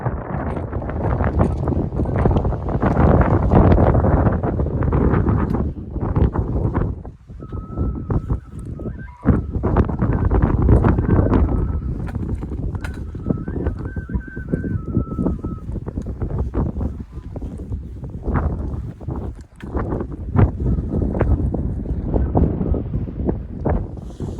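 Strong wind on an exposed hill buffets the microphone in a loud, continuous low roar that surges and dips throughout, with faint brief bird-like calls in the middle.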